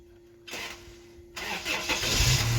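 A 1986 Toyota 2wd pickup with a 22R engine cranks briefly, catches and fires up, settling into a loud, close rumbling idle after a short starter whir.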